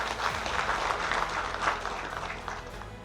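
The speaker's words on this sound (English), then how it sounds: "A round of applause." Fairly faint applause from an audience at a regional prisons and correctional services meeting, steady clapping throughout a few seconds with some background murmur.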